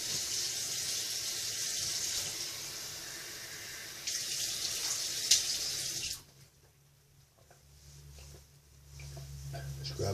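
A kitchen or bathroom tap runs steadily with a broad hissing water stream for about six seconds, then shuts off, leaving a quieter room with faint background noise.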